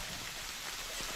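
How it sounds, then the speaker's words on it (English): Heavy rain pouring down at an outdoor trap shooting range during the 2019 Para Trap World Championships final, a dense, steady hiss of drops that fills the whole moment with no voices. "The rain is really coming down hard."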